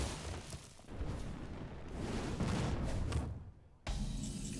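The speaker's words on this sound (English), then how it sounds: "Another arcane explosion for 3 this time." Arcane explosion spell in the Hearthstone video game: a dense, rumbling magical blast that roars for several seconds, swells, cuts off briefly, then resumes as a loud wash.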